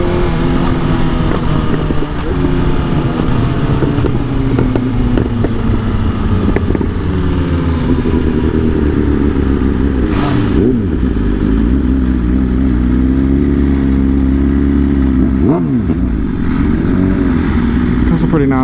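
Engines of cars such as a Challenger, a BMW and Mustangs rumble and rev at an outdoor cookout, a loud continuous low roar with rising and falling pitch sweeps, wind noise and people talking mixed in.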